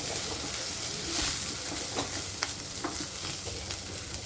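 Sliced onions fry in a pan with a loud, continuous close-up sizzle and hiss, broken by scraping stirs.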